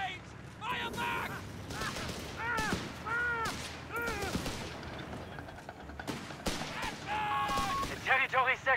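Suppressing gunfire crackles in a Company of Heroes 3 battle, with bursts of rifle and machine-gun shots rattling throughout, under frequent shouted soldier voices.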